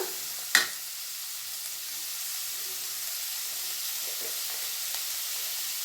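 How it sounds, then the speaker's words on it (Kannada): Onions frying in oil for a pepper chicken gravy give a constant, even hiss of sizzling fat, with one sharp clank of a utensil near the start. "ಚೆನ್ನಾಗೆ ಫ್ರೈ ಆಗಬೇಕು ಎಣ್ಣೆನಲ್ಲಿ ಈರುಳ್ಳಿ ಬಣ್ಣ ಎಲ್ಲ ಚೇಂಜ್ ಆಗಬೇಕು"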